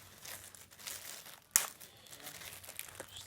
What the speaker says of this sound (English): got a bag here just so I can rip it open